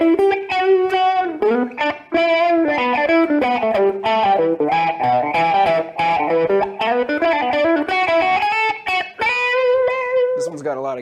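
A T-Rex Yoy-Yoy guitar effect pedal shapes a continuous electric guitar line with a vocal, wah-like sweeping tone and some distortion, loud and upfront, with a short change in tone near the end.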